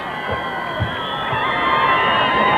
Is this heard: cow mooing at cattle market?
no